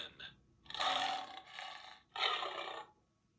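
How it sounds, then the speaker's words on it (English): A lion lets out a few loud, rough roaring bursts, two longer blasts after a short opening growl, heard alone. "Which animal is loud and proud? Lion."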